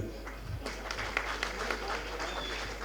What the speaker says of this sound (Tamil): தயவு செஞ்சு நீங்களே ஒரு தடவை கைத்தட்டிருங்க